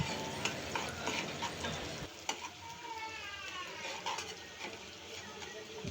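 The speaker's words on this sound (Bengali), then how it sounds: "দিয়ে দিচ্ছি হলুদ লবণ ভালোভাবে কষিয়ে নিব" Spices with turmeric and salt are sautéed in a pan for green tomato bhaji, giving a steady close sizzle broken by scraping stirs, with a faint murmur of voice in the background.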